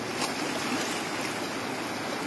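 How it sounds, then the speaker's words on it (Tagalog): A strong water current rushes steadily at a fishing spot, a dense, continuous roar that stays close and constant with no talking over it. "Lakas agos ng tubig"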